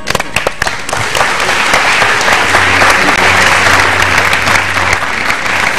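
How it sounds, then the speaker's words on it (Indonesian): Clapping during a podcast hypnosis session to wake Yuki Kato: a few sharp, separate claps, then a loud, sustained burst of dense clapping from several people. "tepuk tangan akan membangunkan Yuki"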